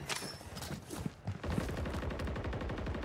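Gunfire in the video game Call of Duty Warzone, with rapid automatic bursts that turn into dense continuous shooting, fairly loud.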